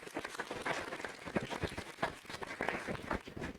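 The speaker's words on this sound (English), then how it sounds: "So give him a round of applause and welcome Jim Baird." Applause from a roundtable audience in Manteno, Illinois welcoming a congressman, a steady patter of many hands clapping at a moderate distance, fairly quiet and with no talk over it.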